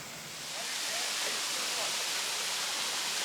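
Limestone waterfall at Turure Watersteps in Trinidad, a steady, dense roar of falling water that swells slightly after the first half second and then holds constant, close and loud.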